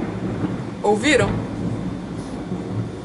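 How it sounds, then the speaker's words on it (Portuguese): Thunder rumbles low through a heavy rainstorm at home, with a steady wash of rain beneath and someone briefly speaking over it. "E não foi estouro de coisas estourando, foi de trovão."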